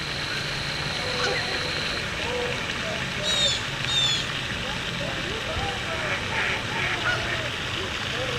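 A flock of geese honks in scattered calls outdoors over a steady crackling background, some calls nearer and louder, with a person talking over them.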